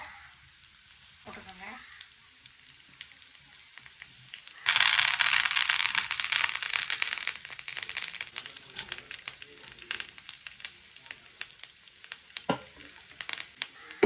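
Mustard seeds roasting in coconut oil with garlic: quiet at first, then a sudden loud burst of sizzling that settles into dense, crackling spatter with sharp pops, close by.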